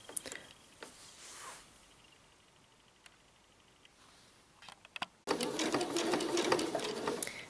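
A sewing machine stitching shirring elastic on a summer dress: quiet handling and scattered clicks at first, then the machine starts up and runs in a louder, steady burst near the end.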